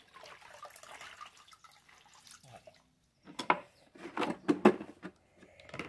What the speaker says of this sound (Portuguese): Que a gente vai completar com água até que ela fique toda coberta.